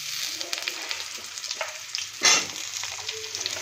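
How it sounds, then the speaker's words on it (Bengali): Panch phoron spices fry in hot oil for a pumpkin-greens vegetarian curry, a close steady sizzle with crackles and stirring scrapes and one louder burst partway through. "ফোড়নটা লাল লাল করে ভাজা হয়ে গেল, সুন্দর সেন্ট বেরিয়েছে"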